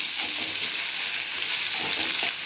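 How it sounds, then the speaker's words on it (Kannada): Onion, garlic and green chillies fry in hot oil, a steady close hiss with faint stirring scrapes throughout, no voices. "ಇದನ್ನು ನೋಡಿ ಈ ಥರ ಫ್ರೈ ಮಾಡ್ತೀವಿ."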